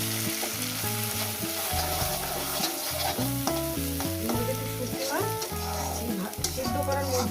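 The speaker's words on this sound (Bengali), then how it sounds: "ভেজে নেব।" Ground bitter greens paste with black cumin frying in oil, a loud continuous sizzle with stirring, heard under steady background music.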